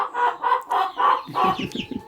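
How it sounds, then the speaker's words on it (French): A young rooster clucks in a run of about five close, loud, evenly spaced calls, followed by quicker, lower chattering clucks. "C'est un petit coq ça."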